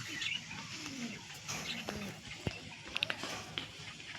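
A pair of domestic pigeons coo softly at close range against steady outdoor background noise, with a few brief chirps mixed in.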